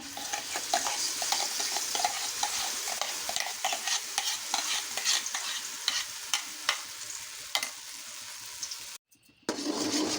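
Ground banana paste stirred and frying in a spoonful of ghee in a pan, with steady soft sizzling and repeated scraping strokes of a spoon close by, briefly cutting out near the end.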